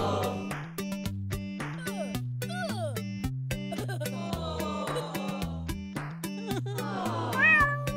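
Cartoon-style cat meows ring out over busy music and sound effects, several short mewing cries rising and bending in pitch.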